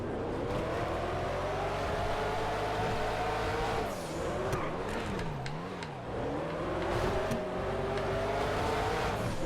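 Engine of an old-school long-tail Le Mans race car in GTA FiveM, a loud continuous drone that rises and falls through gear changes, with a dip and wavering pitch midway before climbing again.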